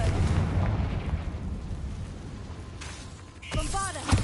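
A Confringo spell going off in Hogwarts Legacy, a dense rumbling burst and explosion with a whooshing tail, ending in a sharper crackling blast and ringing tones near the end.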